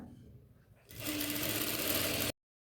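A sewing machine stitches the yoke seam of a nighty, a steady close rapid whir lasting over a second after quieter handling, then stopping abruptly.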